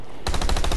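Rapid automatic gunfire from a video game, Planetside 2, bursting in after a brief quiet start and hammering in a fast, steady rhythm of loud, close shots until the end.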